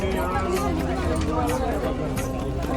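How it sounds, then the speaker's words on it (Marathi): Dense crowd babble fills a busy spot full of people on a Saturday on the way to the Gharapuri (Elephanta) pilgrimage site, a steady close hubbub of many overlapping voices with no single sound standing out. "सॅटर्डे असल्यामुळे खूप गर्दी आहे ट्रेनला पण आणि फुल पब्लिक आहे."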